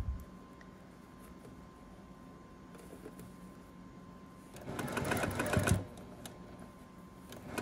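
Sewing machine stitching quilt block pieces for a nosegay flower block, a quiet steady motor hum that swells into a brief louder burst of rapid stitching near the end.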